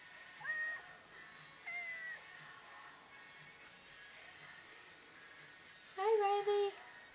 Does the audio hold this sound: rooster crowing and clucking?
no